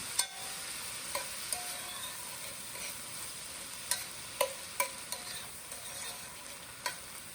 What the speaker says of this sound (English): I'm just going to keep stirring for about 5 minutes because I want the vegetables to be soft and sort of translucent